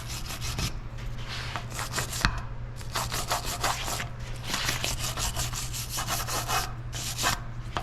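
Scrubbing rusty bolts clean on a 2015 Ford F-150, a steady abrasive rubbing in repeated quick strokes, close and fairly loud over a constant low hum.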